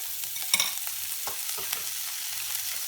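Sausages sizzling and spitting in a frying pan, a steady close crackle with occasional louder pops and a brief scrape of stirring, no voices.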